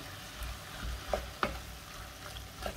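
Ratatouille vegetables with tomato sizzling softly in a pan as a spoon stirs them, a few sharp scraping clicks over the quiet, steady frying hiss.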